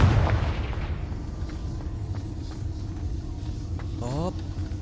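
A Confringo blasting spell fired in the video game Hogwarts Legacy, a loud booming hit at the start fading into rumbling game ambience, followed by a short rising magical whoosh near the end, with speech over it.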